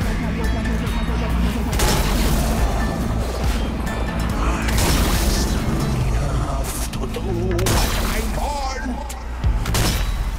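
Gunfire from the zombie shooter Zombie Army 4: Dead War crackles through a dense, loud battle mix of booms and crashes, with a person talking over the noise throughout.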